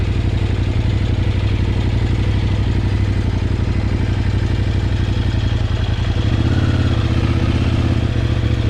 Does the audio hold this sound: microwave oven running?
no